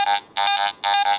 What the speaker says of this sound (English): Iron nail, it's below the 25 you've set, so it's going to sound low tone or junk.